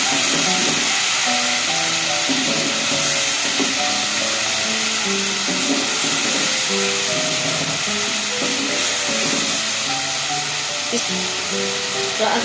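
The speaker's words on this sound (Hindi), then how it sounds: "अब मैंने एक टमाटर जो पेस्ट बनाया था वो डाल देती हूँ इसमें। इसकी भुनाई करते हैं।" Tomato paste frying with ginger and garlic in a pan for rajma lobia curry, a continuous loud hissing sizzle under faint clinks, with no voices over it.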